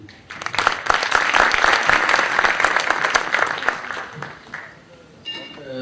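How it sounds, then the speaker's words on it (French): An audience applauds a pianist at a forum panel event, a dense, sustained wash of many clapping hands that swells, holds for several seconds and then thins out as a voice begins at the end. "J'aimerais bien qu'on applaudisse Hatim."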